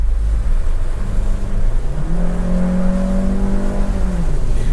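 Maruti Suzuki Ertiga with a six-speed automatic gearbox revs up steadily under acceleration, its engine note climbing in pitch and then easing back, loud and continuous from inside the car.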